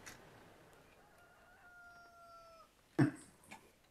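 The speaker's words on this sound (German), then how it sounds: "Das ist der Hühnerstall." Chickens in a henhouse in the Farming Simulator 15 video game, a drawn-out rooster crow followed by a sharp short squawk, fairly faint over a quiet background.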